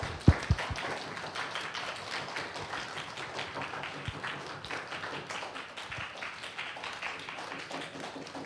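Congregation applauding in a church during a youth Sunday service, steady sustained clapping from many hands filling the room, with a couple of sharper knocks at the start and no talk over it.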